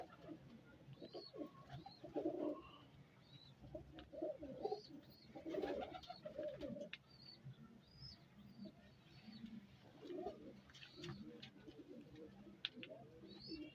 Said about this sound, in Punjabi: ਇਹ 5 ਨੰਬਰ ਕਬੂਤਰ ਨੇ